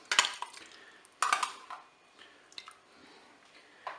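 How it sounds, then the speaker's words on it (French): Pork loin and tomato stirred in a Cookeo pot: wet squishing scrapes and clinks of a utensil against the pot, a few distinct bursts with quieter gaps between, close and alone. "Je vais bien mélanger"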